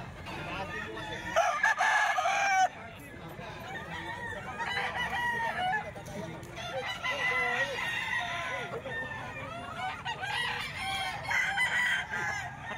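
Several roosters crow one after another at a busy Saturday poultry market in Baliwag, with hens clucking throughout and a steady crowd murmur beneath.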